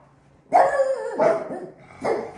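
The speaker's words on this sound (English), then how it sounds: "Are these dogs gonna bite me?" Dogs bark nearby in three loud bursts, each a short harsh bark or yelp, with quiet gaps between them.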